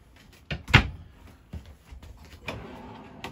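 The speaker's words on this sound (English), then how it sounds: "We got more drawer space here." A drawer in a 2021 Winnebago Micro Minnie 1800BH camper opens with a sharp knock and a sliding rumble, followed by softer clunks and a brief rolling slide, close by and alone.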